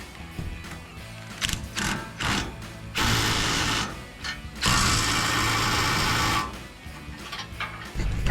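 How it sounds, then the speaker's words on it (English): A ratchet wrench snugs down bolts on a Jeep Gladiator JT steel bumper, with bursts of fast rapid clicking separated by short pauses, close and fairly quiet, no talking. "Now I'm going to fully snug down these 2 bolts here"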